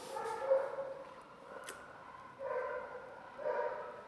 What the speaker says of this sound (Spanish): el perro está ladrando